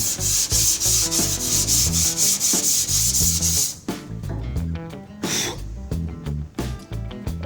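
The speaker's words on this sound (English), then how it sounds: "Sand this down." Hand sanding of a Mazda Miata door panel during bodywork, smoothing out orange peel and high and low spots: steady, loud, rhythmic rasping strokes, close up, that grow sparser and lighter toward the end.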